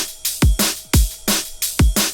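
A drum and bass drum loop with punchy kicks, crisp snares, hats and a ride, run through bus saturation, repeating in a tight, loud, driving pattern with no voices.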